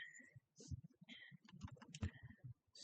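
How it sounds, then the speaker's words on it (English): Keys tapped out in quick, irregular bursts as a calculation is entered on a calculator or keyboard in one go, close and fairly clear, with soft low thumps between the clicks and no talking. "And then just type it all in one step."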